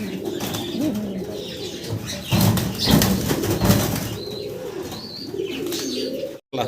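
Caged pigeons coo and shuffle with bursts of wing flapping, the birds close by and fairly loud, with a few higher chirps over a steady rustling backdrop and no talk.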